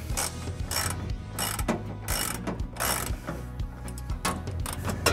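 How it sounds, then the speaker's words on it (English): A ratchet with a 21mm socket loosens the bumper support bolts on a 2015-2022 GMC Canyon during a trailer hitch installation, giving close, rapid clicking bursts in an uneven rhythm of repeated strokes, with no talking. "we're going to be using a 21mm socket to go ahead and loosen those up"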